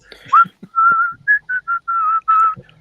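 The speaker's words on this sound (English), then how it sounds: "He needs to work on his whistle, though." A person whistles a short tune of about six or seven clear, sustained notes close by, each separated by brief gaps, with faint voice sounds at the start.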